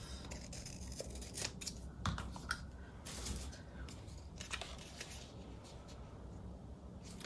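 Scissors snip through paper on a journal spread, with quiet, close, crisp cuts repeating in an uneven rhythm throughout.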